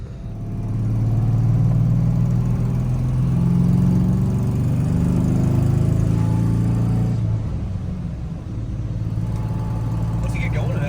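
A manual-swapped 2011 Ford Crown Victoria's engine drones steadily and fairly loud while the car drives, a low rumbling hum that dips briefly partway through before settling again.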